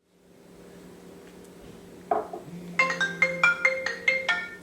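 A telephone ringtone sounds nearby as a bright, repeating electronic melody of rapid pulsed notes, following a couple of soft clunks.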